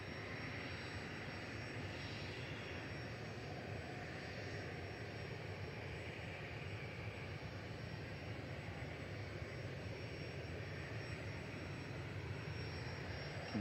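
A Malta Air-operated Ryanair Boeing 737-800 bound for Barcelona departs Manchester Airport, its engines a steady, even roar held at a moderate distance for the whole stretch, with no voices over it.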